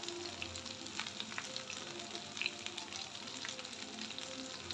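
Okra frying in a pan with little oil makes a quiet, even sizzle with faint crackles and occasional light stirring, with no voices.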